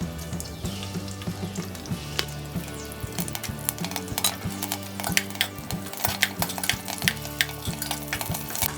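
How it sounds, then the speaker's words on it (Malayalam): Curry leaves crackle in hot coconut oil inside a pressure cooker, with close, steady sizzling broken by quick spatters and metal scrapes from stirring, loud and unbroken. "നമ്മൾ കുറച്ച് കരിവേപ്പില ഇതിലോട്ടിടും."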